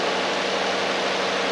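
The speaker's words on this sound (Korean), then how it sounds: "배터리 바꿨다고 엔진 소리가 좋아지진 않겠지?" A Hyundai Grandeur TG car engine idles after a battery replacement, giving a steady, even hum with a low drone and a constant hiss, close and unbroken.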